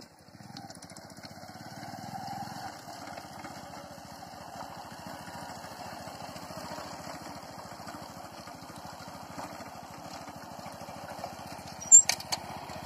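A motorcycle engine runs in first and low gears during a beginner's ride, producing a steady, fast-pulsing low putter that swells briefly and stays fairly close.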